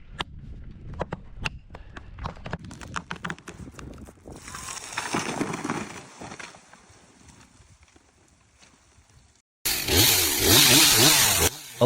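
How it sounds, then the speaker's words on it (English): An MS-362 chainsaw cuts into a tree trunk in a forest. Scattered clattering knocks give way to a rising, buzzing engine whine that fades, then a loud, close burst of sawing near the end. "A lumberjack steps into the forest, armed with the powerful steel MS-362 chainsaw. With calm precision, he begins to cut into the tree's trunk."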